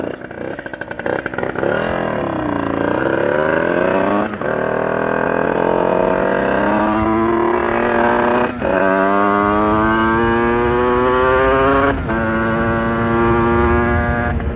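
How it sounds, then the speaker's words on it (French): A motorcycle engine warms up with a loud, close burble, revved repeatedly in swelling rises and falls that settle back to idle between blips, with no talking. "On va faire chauffer tranquillement la moto."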